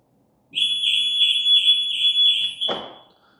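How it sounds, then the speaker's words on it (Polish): A factory-fitted car alarm's external siren, triggered by motion detected inside the car, wails in a steady repeating warble, loud and close, for about two seconds, then cuts off with a soft thump near the end. "Auto wykryło ruch wewnątrz, załączyła nam się syrena zewnętrzna."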